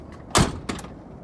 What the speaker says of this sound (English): Next, I'm going to open up my door.